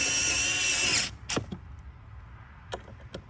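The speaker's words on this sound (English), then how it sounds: "this is what I'm doing now, putting these 3 screws back in." A power screwdriver drives screws back into a saddlebag lid on a 2020 Harley Street model. A loud, steady, close whir runs for about a second, followed by quieter clicks and handling knocks.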